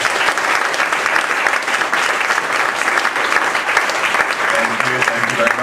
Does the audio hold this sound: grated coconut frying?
no